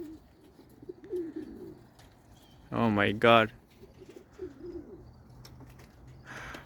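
Racing pigeons coo softly and repeatedly at a loft during a young bird race, with low murmuring calls running throughout and a person briefly exclaiming loudly in the middle.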